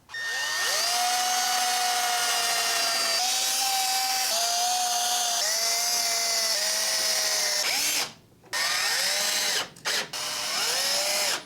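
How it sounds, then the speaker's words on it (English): A power drill drills holes and drives screws into a wooden 6-foot raised planter box. The motor whines loudly and steadily with small pitch shifts as each bit bites, then breaks off briefly near the end before resuming. "now I'm just gonna drill some holes, put some screws in there"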